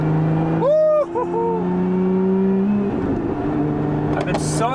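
Lotus Emira fitted with a Valvetronic Designs exhaust, engine droning steadily and then revving up loud and close, its pitch climbing and falling, while a voice talks briefly over the start.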